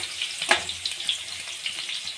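Cumin seeds crackle and sizzle in hot oil while being stirred, a soft steady frying hiss with small pops and a brief scrape, close and without talk.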